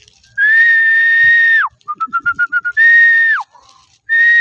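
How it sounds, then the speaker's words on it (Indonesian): A person whistles loudly and close by, outdoors while flying a kite: long sliding tones, then a quick run of short pips, then more long slides. No one talks. "Siul ya, siul ya."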